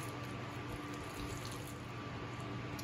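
Water sprays steadily as a car wheel is rinsed during professional detailing of a 2021 S550, a continuous close hiss and splash with no voices.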